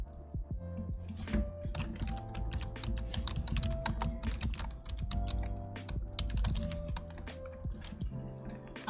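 Fast, uneven clatter of typing on a computer keyboard, close and continuous, with quiet background tones running underneath.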